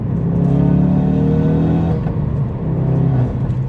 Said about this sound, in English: 3rd gear, casual cruise, all that power just dumps in